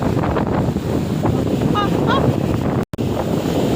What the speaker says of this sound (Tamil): அலை எப்படி வருது பாருங்கள் நம்ம பக்கம்.